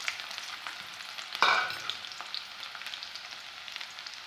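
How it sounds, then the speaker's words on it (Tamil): Finely chopped onions sizzle in a pan, a continuous bright frying hiss with a sharp flare of crackle about midway as they are stirred, then settling back to a steady sizzle, with no voices. "வெங்காயம் நல்லா வணங்கிருச்சு"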